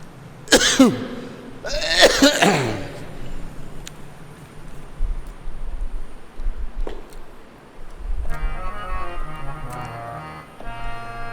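Two short harsh coughs near the start, followed by quiet room noise, a faint click, and a low hum later on.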